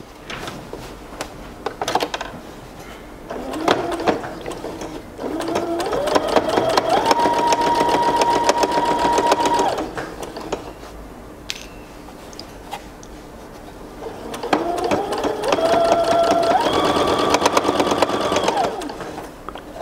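A sewing machine stitching fabric for drawstring pants near a pocket edge, with two sustained whirring runs of steady stitching separated by a pause filled with quieter handling noise.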